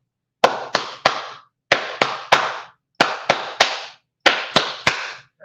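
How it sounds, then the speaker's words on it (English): An audience claps in unison in four rhythmic bursts of three sharp, sudden claps each, loud and close with silence between the groups. "That's the FY clap."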